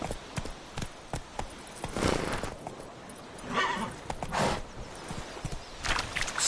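Roach the horse trots in the video game Witcher 3, close hoof clops falling at an uneven pace, with snorts and a whinny breaking in between the steps and no talking.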